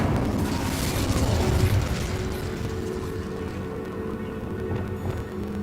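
Incendio fire spell cast in Hogwarts Legacy, a Harry Potter video game, set in a bone-strewn archway area: a loud, sustained roaring whoosh of flame that swells in the first two seconds, then settles into a steady crackling rumble.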